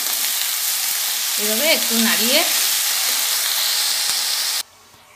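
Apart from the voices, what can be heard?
pumpkin leaves sizzling and being stirred in a pan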